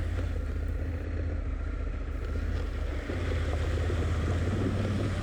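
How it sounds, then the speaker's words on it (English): A motorbike pushes through a deep, water-filled bog hole on an outback track, with a constant loud churning of engine and splashing water buffeted by heavy wind noise on the microphone. "Oh dear, this one's really deep."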